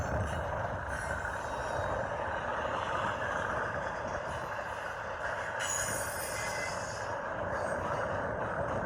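A Union Pacific intermodal freight train rolls through downtown in strong winds, making a loud, continuous rumble of wheels and cars with hints of squealing, heavily buffeted by wind noise the whole time.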